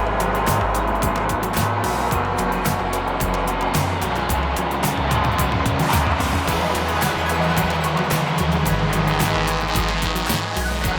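TCR Spain touring cars racing on a wet track, a dense, continuous roar of engines with shifting pitches and hiss of spray as cars pass close, loud throughout with no clear gaps.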